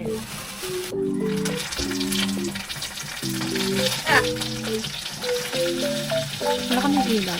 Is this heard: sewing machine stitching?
no